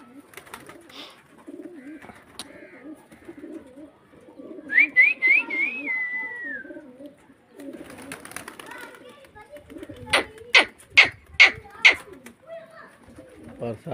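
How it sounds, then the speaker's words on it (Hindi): Pigeons bathing outdoors in the rain give soft, low, repeated coos throughout. A rising whistled call cuts in midway, and a run of sharp, loud clicks or flaps comes near the end. "ये देखें हमारे कबूतर जो है ना नहा रहे हैं, बारिश में मैंने इनको निकाल दिया है बाहर।"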